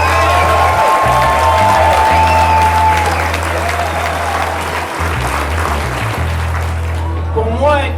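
A crowd applauds a snowmobile club volunteer at the Club de Motoneige Bon-Air season-opening gathering. The clapping is loud and sustained, with voices and scattered cheers mixed in throughout.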